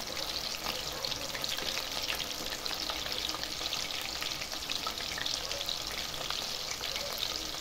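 Chicken sautéed Bengali style in a pan sizzles loudly and evenly from start to finish, with a dense crackling hiss and occasional spits of oil close to the mic. No one speaks.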